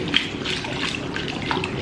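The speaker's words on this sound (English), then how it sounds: "you can start to add your milk a little bit quicker" Milk pours into a thickening sauce for a chicken and leek bake, a close, continuous liquid splash and trickle that stays fairly even for about two seconds with no talking.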